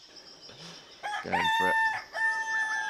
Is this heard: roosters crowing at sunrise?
yes